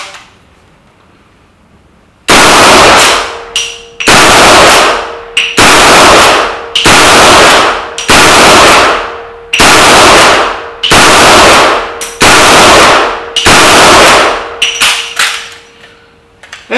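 A Chiappa .44 Magnum Alaskan 1892 lever-action rifle firing outdoors, about nine loud, sharp shots roughly a second and a half apart, each with a ringing decay, the lever cycling between them.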